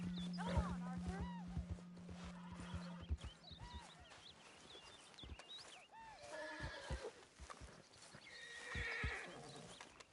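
A horse in Red Dead Redemption 2 whinnies and snorts amid clip-clopping hooves, with someone speaking calmly to it over faint game ambience.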